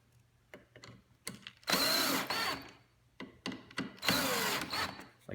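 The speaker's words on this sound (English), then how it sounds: "and we screw it down." A power drill drives screws into pre-drilled holes to fasten trellis parts of an urban smart farm planter. Two loud, close whirring bursts are separated by clicks and handling knocks.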